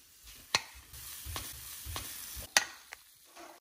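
Food sizzles and fries in a pan on a home stove, a steady low crackle broken by a few sharp utensil clinks and scrapes, with no talking.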